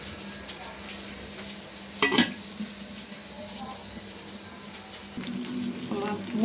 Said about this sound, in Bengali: আমার মুরগি ভাজা হয়েছে।